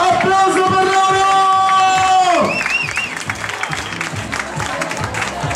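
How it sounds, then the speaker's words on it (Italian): An audience applauds and cheers at a Puerto Rican salsa dance competition at Samanà. Music with sustained tones fades out in the first half, then crowd clapping and babble carry on at moderate level. "Applauso per loro!"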